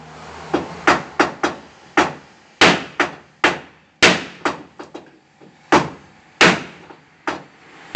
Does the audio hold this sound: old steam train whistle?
no